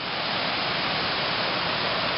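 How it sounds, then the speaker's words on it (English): Dunnings Springs waterfall pouring in a steady, full broadband rush, close and constant with no pauses and no voices. "I love this waterfall."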